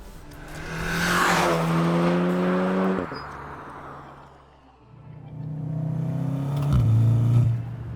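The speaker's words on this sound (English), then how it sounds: "The 2-liter has like a grunt to it." HPA Motorsport VW Golf R with a 2-liter engine accelerating hard, a deep grunting roar climbing through revs, dropping briefly between pulls, then rising again, loud and close with no talking.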